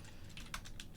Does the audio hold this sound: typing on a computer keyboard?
yes